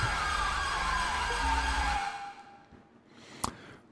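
An ambulance siren in GTA 5 with the LSPDFR police mod wails with a falling tone for about two seconds. It then cuts off, leaving a quiet stretch with one brief sharp click near the end.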